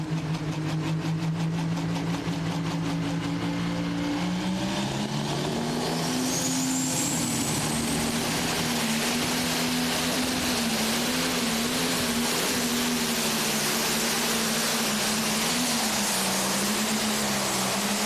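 A pro stock pulling tractor roaring through a pull at a tractor pull event, a loud sustained heavy engine drone that climbs in pitch and holds under strain for the length of the run, with no talk over it.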